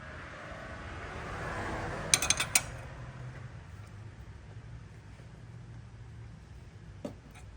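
An internal three jaw puller is tightened to pull a pilot bearing, giving a quick cluster of metallic clicks and ratcheting with a later single clink, over a low background hum.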